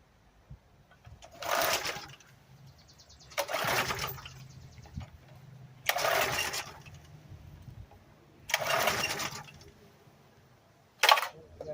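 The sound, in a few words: Briggs & Stratton engine on a Craftsman edger starting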